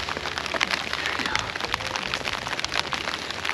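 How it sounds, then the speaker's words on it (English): Rain falls outdoors around a winter campfire, a dense crackling patter of drops striking surfaces close by, steady and fairly loud throughout. "Oh, the rain's coming down now."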